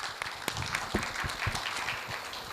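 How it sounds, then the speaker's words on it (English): Audience applause at a conference session in a Mumbai hotel, a dense wash of clapping with a few sharper individual claps standing out, steady and fairly loud throughout. "Can we have a loud applause for the gentlemen"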